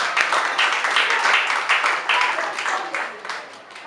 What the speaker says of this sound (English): Shall we clap for Mr. Paul Sene?